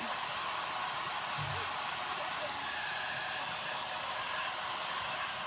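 A hair dryer blows hot air onto acrylic paint on a scrap wood pumpkin piece, a loud, constant whooshing hum that runs unbroken from start to finish.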